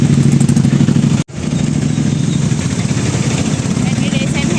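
Busy road traffic, motorcycle engines idling and revving close by, forms a loud, continuous rumble with a brief dropout early on, and people talk over it throughout.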